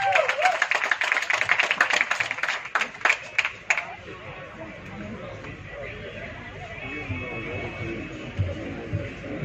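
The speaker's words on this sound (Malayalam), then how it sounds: "നല്ലൊരു കയ്യടി കൊടുക്കുക എല്ലാവരും" Enthusiastic audience applause for senior bodybuilding contestants at a championship, loud dense clapping for the first few seconds that then thins to scattered claps under crowd murmur and a voice.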